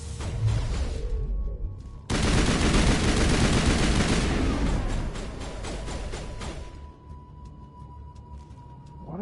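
Gunfire in the video game Mass Effect Legendary Edition, a dense, loud burst of rapid shots and impacts that swells after a quieter opening, then thins out and fades toward the end.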